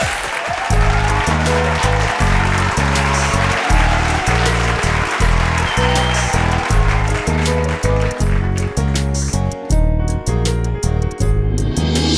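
Loud studio audience applause at a singing competition's studio round, dense steady clapping over rhythmic drum beats and music, sustained throughout.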